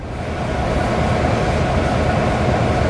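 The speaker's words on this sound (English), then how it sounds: "A few minutes later, Pops arrived with a freight train" Freight train arriving, a steady, loud rumbling roar of rolling wheels and cars with no breaks, continuous and close throughout.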